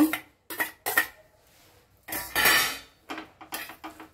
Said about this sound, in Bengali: এটা খুব গরম আছে তাই আমি চামচে করেই মাখবো